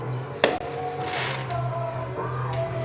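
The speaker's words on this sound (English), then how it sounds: "Got the big fireworks show going at the moment." Fireworks go off at a high school football game between East Hickman and Mt Pleasant, one sharp bang followed by a steady crackle and rumble under ongoing crowd noise and a commentator's voice.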